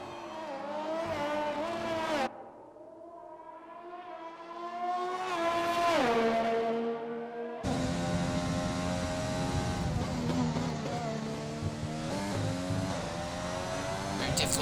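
A race car in a sim racing game is driven at full throttle at the Canada circuit, its engine whining up through the gears with sharp downshifts and tire noise, continuous and loud, with commentary voices underneath.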